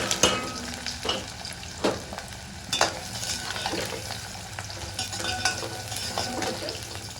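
Onions sizzle and crackle in a hot pan while a spoon stirs and scrapes now and then, steady frying noise up close with no talking.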